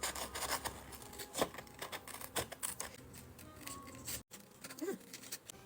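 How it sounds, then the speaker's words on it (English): Paper scissors snip and rustle through paper in short, irregular cuts while cutting out a sewing pattern, close and fairly quiet, with faint handling noises between. "start to cut it out with your paper scissors, not fabric scissors"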